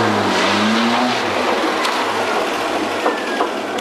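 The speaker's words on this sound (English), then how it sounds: "So the next shot is Tracy driving in." A car pulling away on a TV drama set, engine note rising and holding steady at close range, loud and continuous with a faint squeal partway through.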